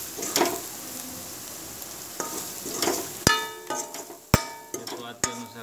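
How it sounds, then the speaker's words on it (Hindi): Masala sizzles in a pan while cooking chole, a soft steady frying hiss broken by several sharp metallic clinks of a spoon stirring against the pan. "अब इसको देखो फ्राई करते रहो।"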